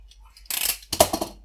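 Scissors cut along the edge of a paper corner for bookbinding, giving two short, close snipping crunches about half a second apart.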